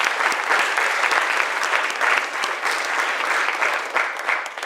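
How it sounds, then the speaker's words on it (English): Thick, continuous audience applause at a music-business talk, a dense crowd clapping loudly and evenly for the whole stretch, close and without speech on top. "give him a round of applause for both of them, y'all"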